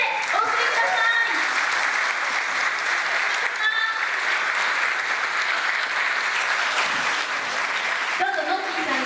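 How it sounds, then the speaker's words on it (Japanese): Audience applause at the end of a guitar concert in a hall in Aizuwakamatsu, Japan, a long even wash of clapping with brief speech at the start and a voice again near the end. "大きな拍手でお送りください。"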